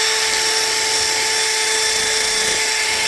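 A drill fitted with a 60 grit sanding attachment grinds at casting marks on a Honda K24 intake manifold, a continuous high whine with steady harsh abrasive hiss, close and loud.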